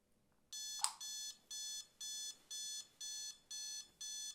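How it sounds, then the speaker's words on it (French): An alarm clock rings in repeated electronic beeping bursts, eight evenly spaced pulses of bright tone with a brief click near the start, clear and close in a quiet room. "Le réveil sonne."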